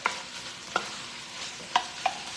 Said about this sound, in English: So you want to mix the butter and the onions together.